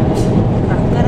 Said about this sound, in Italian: Ah no, è la metro